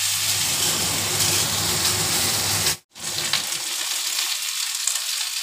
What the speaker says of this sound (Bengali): সবজিটা একটু ভেজে নেব নুন হলুদ দিয়ে।